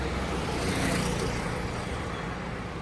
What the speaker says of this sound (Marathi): तुम्हाला गाड्यांचा आवाज सुद्धा आहे ना खूप येत असेल